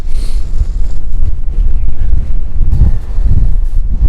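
Strong wind buffets a microphone on the exposed summit of Mullaghanattin, a steady low roar with gusts swelling and fading throughout, with no voice heard.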